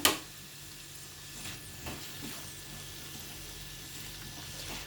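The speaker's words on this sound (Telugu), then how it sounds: "టమాటా ముక్కలు వేస్తున్నాను." Chopped pieces of two medium tomatoes dropped into a hot pan for an eggplant and chana dal masala curry, giving a sharp initial hit followed by a steady, even sizzle with light stirring scrapes throughout.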